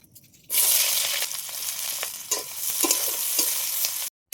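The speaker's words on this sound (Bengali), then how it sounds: "তেলটা গরম হয়ে গেছে এখন পেঁয়াজ কুচি দিয়ে দেব" Chopped onions hit hot oil in a wok (kadai) for a potol bharta, bursting into a loud, steady sizzle with crackling spikes as they are stirred, close and with no voices.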